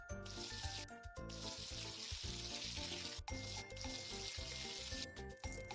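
Water spraying and rinsing in a cartoon house-cleaning game, a steady hiss that runs continuously and breaks off briefly a few times, set against light background music.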